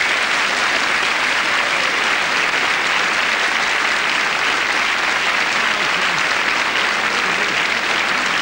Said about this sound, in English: I would like, if you would put your hands together and welcome one of your own